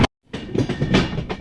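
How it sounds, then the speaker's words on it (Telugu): Train rolling into Basin Bridge, Chennai, on the 20853 MGR Chennai Central Super Fast Express, a steady close rumble with rattling carriages after a brief silent gap. "సో మన ట్రైన్ అయితే బేసన్ బ్రిడ్జ్ ఎంటర్ అవుతుంది."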